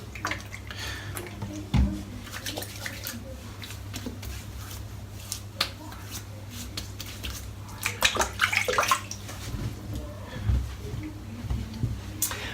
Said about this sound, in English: rinse the soap out, rinse the brush out